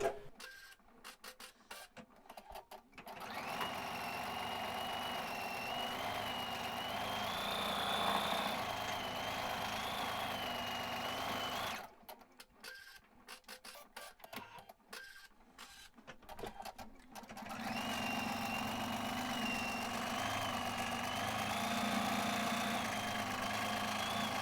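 An embroidery machine stitches the outline border around scroll designs in a single thread colour, a steady, close mechanical whirring and buzzing that runs in two long stretches separated by a pause of clunks and clicks.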